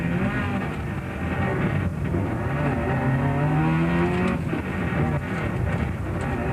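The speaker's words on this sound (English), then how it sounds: "Behind the wheel of Nicholas Ryan's Bosel's Subaru for a quick trip around J Bay" A Subaru rally car drives at speed on a rally stage, its engine a loud continuous close-up roar with rising revs and road rumble throughout.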